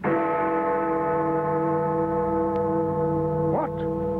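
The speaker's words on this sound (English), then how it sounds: "Ring out, ye chimes." Sustained ringing church bell tones hang in the air, rich and resonant, with a brief higher chime near the end, in a radio drama.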